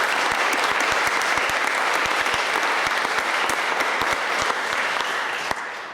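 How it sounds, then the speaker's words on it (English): Audience applause at a Year 10 debating grand final, with sustained, even clapping from a room full of people that stays loud throughout before tapering slightly at the end. "if we can give them one more round of applause"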